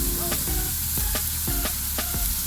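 Flank steaks sizzle steadily on a gas grill, a close, continuous frying hiss with a few sharp clicks and scrapes recurring at roughly half-second intervals.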